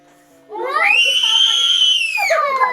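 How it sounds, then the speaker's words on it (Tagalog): A child lets out one long, loud, high-pitched scream lasting nearly two seconds, then breaks off into a shorter wail, close to the listener after a quiet start. "Oh, sumisigaw na siya."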